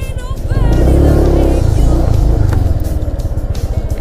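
A small motorbike rides over sand, its engine loud and close with a revving, sputtering drone that swells and then settles into a pulsing putter.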